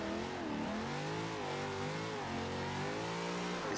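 A car engine revs and surges continuously while drifting through a dock area in Forza Horizon 2, its pitch rising and falling in long sweeps, loud and close with no talk over it.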